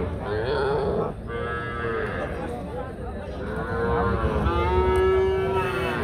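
Heifer calves moo loudly and repeatedly at the Rasulpur cattle market, several drawn-out calls following one another close by over a steady crowd murmur.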